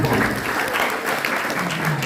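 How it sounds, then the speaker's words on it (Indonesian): An audience at a youth religious camp storytelling session claps steadily, a moderate continuous patter of many hands with faint voices mixed in. "Oke tepuk tangan kita semuanya"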